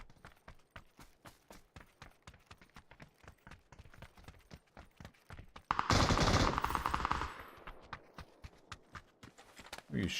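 Video game gunfire: a fast regular stream of sharp shots throughout, swelling into a loud explosive roar in the middle before the steady firing resumes.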